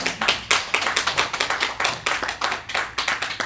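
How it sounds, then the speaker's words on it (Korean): A church congregation claps for a deacon during Sunday worship, a fairly near, rhythmic run of sharp hand claps that falls into a steady beat. "다시 한번 우리 김수 집사님께 큰 박수 한번 보내주시고"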